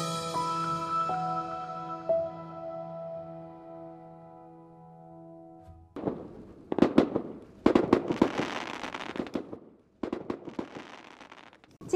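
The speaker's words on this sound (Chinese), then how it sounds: "然后按捺不住激动的心情就开始放烟花" Fireworks set off at night during the Mid-Autumn Festival: after a steady tonal hum fades out, loud sharp bangs and crackling bursts fill the second half in irregular clusters.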